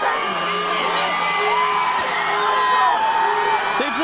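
High school football crowd at the Spartans' final against Longmeadow, whooping and cheering loudly after a play, with overlapping yells and shouts filling the whole stretch.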